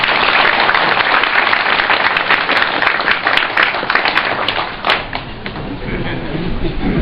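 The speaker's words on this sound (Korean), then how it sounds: "뜨거운 박수와 함성으로 다시 한번 후보자를 맞이해 주시기 바랍니다" An audience at a candidate's campaign office opening claps and cheers loudly and continuously, crackling applause with scattered sharp claps that thins slightly toward the end.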